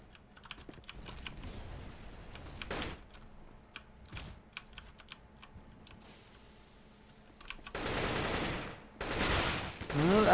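Gunfire from a Counter-Strike pro match crackles in scattered sharp shots along with keyboard-like clicks. Louder, denser bursts of shots arrive near the end.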